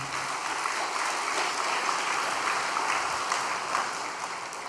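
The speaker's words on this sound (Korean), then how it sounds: "우리 코리야마 교회를 위해서 격려의 박수 좀 한번 올려주시기 바랍니다." A church congregation claps in encouragement, a continuous crowd applause that stays even and fairly distant, no voices on top.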